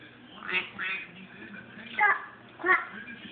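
A person imitates a duck's quack several times, the short nasal calls coming in quick pairs up close, with a voice and soft talk around them.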